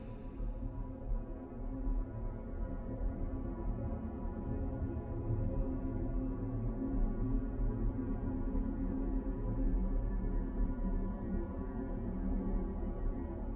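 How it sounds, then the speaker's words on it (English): Space recording of the planet Venus: a steady, dense low rumbling drone with a faint high hiss at the start, continuous and even throughout with no voices. "This is the sound of Venus."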